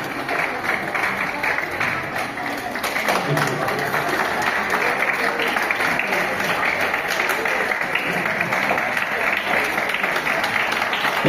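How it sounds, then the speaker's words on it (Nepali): An audience at a school Grade 10 farewell program applauds in steady, sustained clapping that fills the room throughout, with a voice faintly heard beneath it. "एकदम ताली चाहिँ एकदमै बजाइराख्नु पर्ने हुन्छ"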